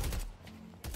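Gunfire from a video game such as Fragpunk or Deadlock, a quick burst of sharp shots, then a short gap, then more shots, heard faintly in the game audio.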